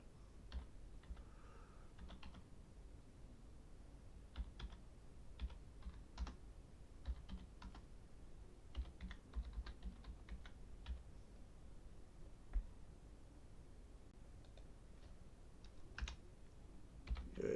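Typing on a computer keyboard while writing in Microsoft Word: quiet, close, irregular clicks in short runs and scattered single keystrokes, with no voice over them.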